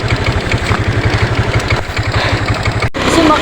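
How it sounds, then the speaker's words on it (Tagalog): A motorcycle engine runs steadily and close by as riders set off from Minlaya Falls, its low, even throb continuing throughout with a brief cut near the end. "At ngayon, magsasakay kami ng motor."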